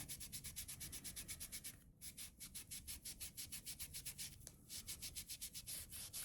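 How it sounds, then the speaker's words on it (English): Paint being rubbed off a laser-cut wooden cutting board with a faux distressed finish: fast, even back-and-forth scrubbing strokes close up, with two brief pauses, no talking. "So I'm just rubbing off some of the paint"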